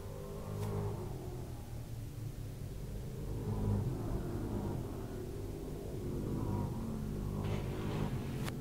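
Late model race cars roar around Star Speedway in a feature race, a steady rumbling engine drone that swells and fades as cars pass at a distance.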